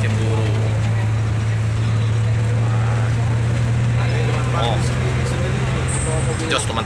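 A long-distance ALS 081 bus drones along at speed with a steady low engine hum and broadband road and wind rumble, loud and continuous throughout.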